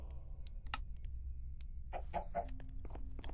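Chickens cluck in a Minecraft-style survival game, a few short bursts of in-game fowl sounds among soft clicks and other game effects at moderate volume.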